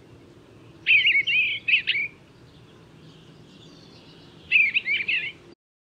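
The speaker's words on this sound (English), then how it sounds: "This is a male eastern bluebird." A male eastern bluebird sings two short bursts of warbled, chirping phrases separated by a pause, clear and fairly close over a faint low background hum.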